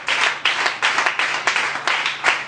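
Congregation clapping in church in a steady, rhythmic beat, about a dozen even claps from many hands, loud and close with no speech.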